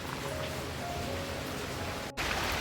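Heavy monsoon rain pours down steadily in the Konkan countryside, a dense, even hiss with a brief dip near the end and no voices.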